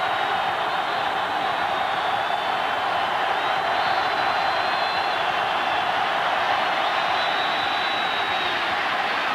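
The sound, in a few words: college football stadium crowd roaring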